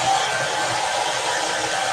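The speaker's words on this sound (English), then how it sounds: "My hair dryer is on a cool setting." A hair dryer on its cool setting blows a steady, loud, close rush of air with no pauses.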